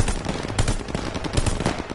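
Machine gun fire aimed at a half-track in Call of Duty Vanguard, heard as a loud, close stream of rapid shots in a rough, uneven rhythm, with no voices.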